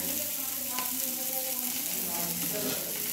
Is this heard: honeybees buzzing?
no